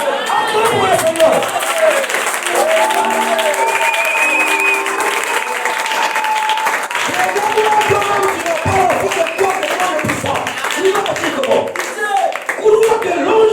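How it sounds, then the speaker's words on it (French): A church congregation claps and cheers for the Lord, sustained dense applause from a large crowd filling the whole stretch, with voices calling out over it. "Acclamez pour le Seigneur."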